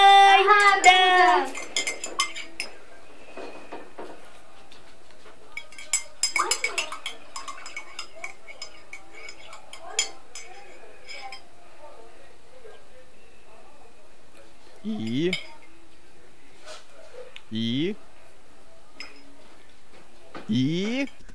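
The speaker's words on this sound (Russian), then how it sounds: "Мы будем пить ложкой!" Spoon clinking against a cup and dishes, scattered sharp metallic taps and rattles near the start and middle, with occasional voices and quiet gaps between.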